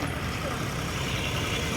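A tractor engine running on a city beach, a loud, steady low rumble that stays even throughout with no breaks, heard close by over faint outdoor background.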